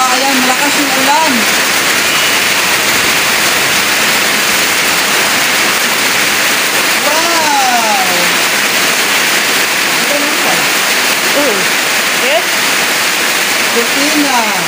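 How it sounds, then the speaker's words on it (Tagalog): Heavy rain pours in a dense, steady hiss throughout, with people talking intermittently underneath. "malakas yung ulan"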